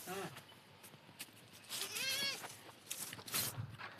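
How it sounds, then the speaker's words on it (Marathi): A young goat kid bleats once, a short wavering cry in the middle of the clip, close by but fairly quiet and surrounded by light background rustling. "हे बघा ही या शेळीचं पिल्लो आहे"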